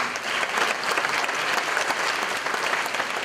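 Steady, dense applause from a concert audience after a song performance, a continuous wash of clapping hands at even loudness throughout with no voices over it.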